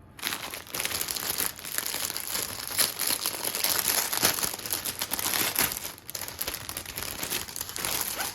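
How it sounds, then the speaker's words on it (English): A Niupipo MX-33 pickleball paddle is pulled from its plastic wrapping, producing close, loud, continuous crinkling and rustling with sharper crackles for several seconds. "Taking it out of that plastic, it's got this nice neoprene feel cover"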